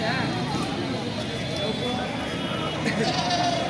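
Goats bleat at a livestock market in Baliadangi, Thakurgaon, their calls rising over a constant crowd murmur and nearby talking.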